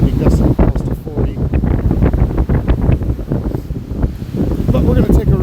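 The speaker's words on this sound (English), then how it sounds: "It's a gloomy day and a very windy day." Strong gusting wind near 40 mph roars across the Lake Superior shore at Park Point on a gloomy day, buffeting the microphone in loud continuous rumbling blasts throughout.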